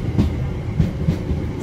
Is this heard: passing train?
yes